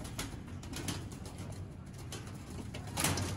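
A golden pigeon in a fine enclosure coos repeatedly, with soft low calls running steadily through the clip at close range against a constant background hum.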